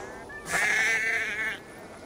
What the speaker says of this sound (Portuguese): Vamos alimentar as ovelhas e o que vai sair?